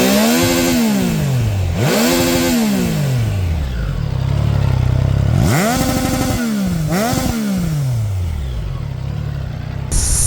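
A Triumph Trident 660 three-cylinder motorcycle, A2-restricted, accelerates hard through the gears, revs climbing steeply then dropping at each shift, loud and close with a rasping engine note over repeated runs.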